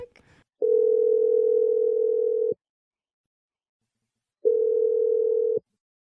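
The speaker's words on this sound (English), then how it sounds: "We're dialing the number right now." A telephone call being placed gives two long, steady, loud ringing tones separated by a few seconds of silence, with a brief click at the start.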